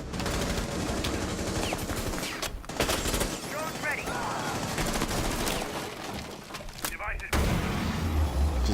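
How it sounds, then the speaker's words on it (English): Rapid automatic gunfire rattles through an esports shooter match, dense bursts running almost continuously with brief gaps, fairly close and busy. "Just gunfights everywhere right now"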